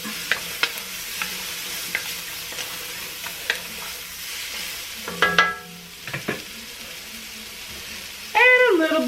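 Pieces of pot roast meat browning in olive oil in a pot, a quiet sizzle broken by intermittent stirring clatters and a louder scrape near the end.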